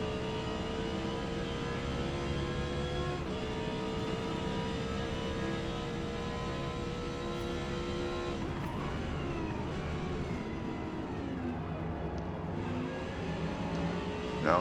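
Audi R8 GT race car engine in Forza Motorsport at Mid-Ohio, droning steadily at high revs through the whole stretch with rising and falling harmonic pitch, no talk.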